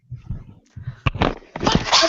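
A single person sneezes close by, a sharp burst preceded by a short in-breath. Speech-like murmuring comes before it and a brighter rustling noise follows.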